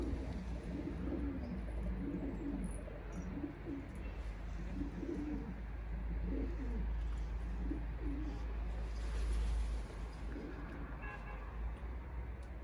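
Pigeons cooing in low, repeated bursts amid a steady outdoor rumble in snowy weather, with occasional faint chirps in the background.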